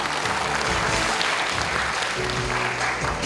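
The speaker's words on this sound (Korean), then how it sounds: "큰 박수로 맞이해 주시기 바랍니다." An audience at a candidates' debate for the Yeonggwang county head by-election applauds steadily, a continuous wash of clapping with faint tonal sounds underneath and no clear speech.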